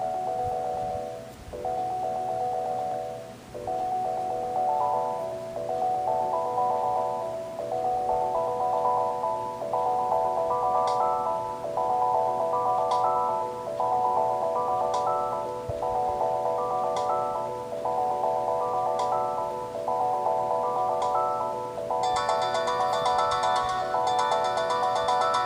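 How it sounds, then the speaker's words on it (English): An electronic beat built in the BeatWave app on an iPod Touch 5G: a steady, looping pattern of bright synth tones in repeating phrases, with a denser sparkly layer joining near the end. "So let's just go and make a beat."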